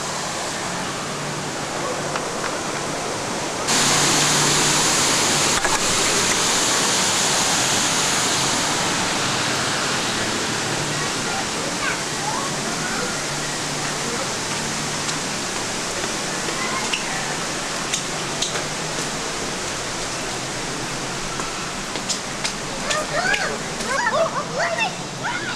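A babbling brook in humid wilderness near a lodge and geyser gives a steady, broadband rush of flowing water that fills the whole stretch, with a voice talking faintly over it.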